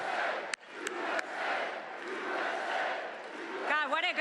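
A large political rally crowd at a Trump event in Pennsylvania roars and cheers continuously, with chanting and shouting rising toward the end; a few sharp claps punctuate the dense crowd noise.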